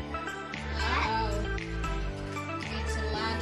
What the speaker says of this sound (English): It's a ladle and with rubber band.